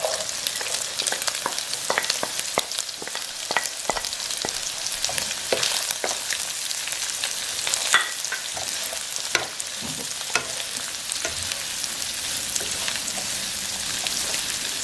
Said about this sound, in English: now we're gonna add our chopped onions